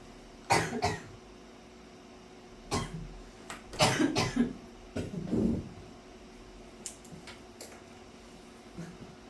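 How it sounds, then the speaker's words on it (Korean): Several sharp coughs come in bursts separated by pauses, close and fairly loud, with a throat-clearing sound mixed in; no talking. "내가 요 근래에 기침을 많이 해가지고 복근 생기겠어"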